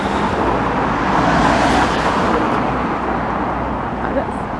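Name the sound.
car passing by on a street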